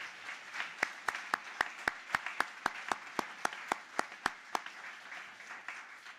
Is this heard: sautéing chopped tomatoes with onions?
no